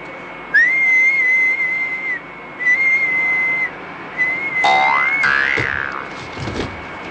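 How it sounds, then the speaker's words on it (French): A cartoon character blows loud, shrill whistles close into someone's ear in several separate bursts. The last bursts slide up and down in pitch, with the clatter of noisy machines faintly behind. "Je vais lui siffler fort dans les oreilles et on verra s'il ne se réveille pas."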